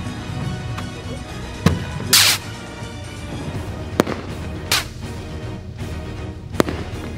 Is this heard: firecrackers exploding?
yes